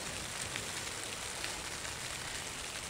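Light drizzling rain during tent pitching on a wild bike-packing trip along Scotland's NC 500, a steady, soft broadband patter that stays even and unbroken throughout.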